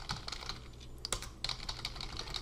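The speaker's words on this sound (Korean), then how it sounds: "자, 이제 여기서 타이핑을 한번 해보는 겁니다." Someone types steadily on a computer keyboard at close range, producing rapid, irregular key clicks with a brief pause midway.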